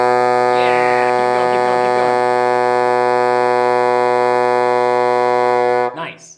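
A small reed instrument with a small tube holds one long, loud, steady note for about six seconds, buzzy and rich in overtones, with faint talk underneath before the note cuts off.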